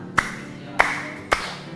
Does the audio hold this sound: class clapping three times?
yes